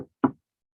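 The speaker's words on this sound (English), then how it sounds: "Knock on wood." Two quick knocks on wood, close and dry, the second louder than the first, then silence.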